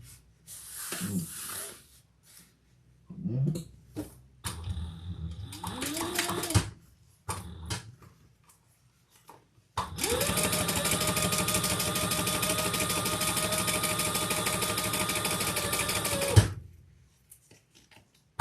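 A sewing machine top-stitches a leather crossbody bag, first in a few short stop-start bursts, then in one long, steady, close run of rapid needle clatter lasting several seconds before it stops.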